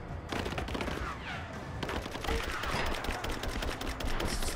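Weapon fire in the video game Rise of the Tomb Raider, a burst of sharp, rapid shots that stops briefly and then resumes with more crackling reports, loud and close.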